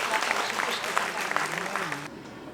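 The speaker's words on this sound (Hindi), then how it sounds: "इन्हीं शब्दों के साथ तालियों के साथ स्वागत करेंगे माननीय मुख्यमंत्री।" Crowd applause welcoming a state chief minister at a government event, steady moderate clapping with a faint voice underneath that cuts off abruptly near the end.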